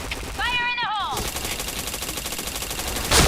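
Rapid video game gunfire bursts crackle loudly and steadily throughout, with a brief descending electronic whistle-like tone near the start and a sharper burst at the end.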